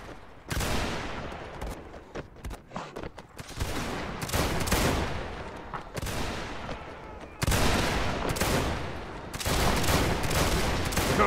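Musket volleys in a Napoleonic battle in Mount and Blade Warband, loud close crackling fusillades of many shots layered over one another, coming in several dense bursts with short gaps and continuing almost without a break.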